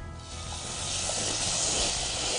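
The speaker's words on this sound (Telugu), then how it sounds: "నీళ్ళు పోయండి." Water poured into a hot pan while making sweet pongal hisses and sizzles loudly, a steady close steam rush swelling for a couple of seconds.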